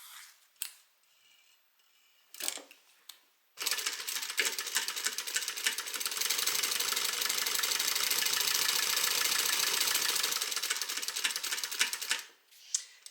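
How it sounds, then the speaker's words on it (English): A sewing machine stitching a bag seam runs in a long, fast, steady mechanical whir that lasts several seconds, with a few short clicks and handling noises before and after it. "I'm going to sew with the Decaville side facing up"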